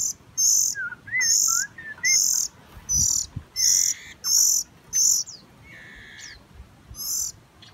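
A debyak bird chirps in repeated bright bursts, short high calls spaced roughly half a second apart, close and clear over faint insect hum and a couple of low thumps.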